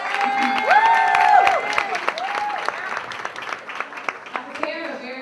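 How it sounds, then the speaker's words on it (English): An audience claps for a speaker in a room, steady dense applause filling the first few seconds, then thinning into scattered claps while a voice speaks over it. "So I want us all to give her one more round of applause"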